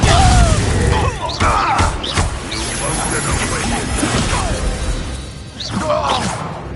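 The Confringo blasting spell bursts in Hogwarts Legacy with a booming crash and swooshing debris at the start, followed by smaller thuds and whooshes as combat continues and a voice speaks over it.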